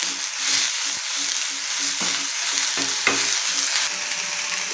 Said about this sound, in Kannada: ಪುದೀನ ಹಾಕ್ಕೊಬೇಕು, ಕೊತ್ತಂಬರಿ, ಮೆಂತ್ಯ ಸೊಪ್ಪು ಎಲ್ಲ ಹಾಕೊಂಡು ಫ್ರೈ ಮಾಡ್ಕೊಬೇಕು